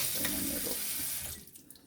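Tap water runs steadily into a kitchen sink while cooked macaroni noodles are drained, a close, loud rushing that cuts off and thins to drips near the end.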